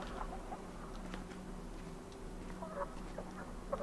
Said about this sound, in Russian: курица. Освободи курицу.